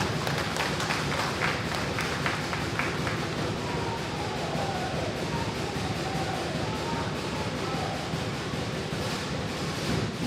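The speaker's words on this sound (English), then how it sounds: "So how about another round of applause for our" Sustained applause from an audience at the official opening of a Pacific women's market expo, steady broadband clapping filling the whole stretch at an even, crowd-wide level with no single voice standing out.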